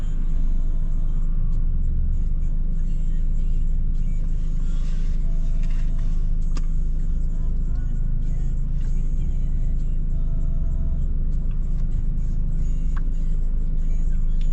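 At the Thunderbird Road and Grand intersection, a constant loud traffic rumble rolls on as cars and heavier vehicles pass and turn nearby, with engines droning steadily throughout.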